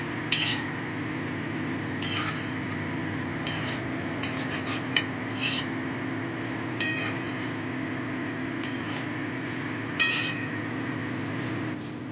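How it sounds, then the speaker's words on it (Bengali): A spoon scrapes and clinks against a pan in irregular bursts, stirring leftover rice with sugar over a steady low background hum; no voices. "এবার চিনিটা ভাতের সঙ্গে খুব ভালোভাবে নেড়ে চেড়ে মিশিয়ে নেবো"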